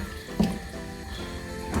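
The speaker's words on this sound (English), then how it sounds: "I'm just going to add some more water to that" Water is added from a tap to a pot of stewing oxtail in a kitchen, a close, steady running splash with a brief gurgle at the start and no talk.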